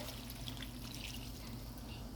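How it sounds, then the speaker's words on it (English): Water is poured into a pan of cooking vegetables such as squash and potatoes, a faint, steady trickling splash lasting a couple of seconds with no talk. "we're going to add 1 cup water"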